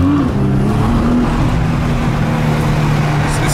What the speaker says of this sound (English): the turbos do sound nice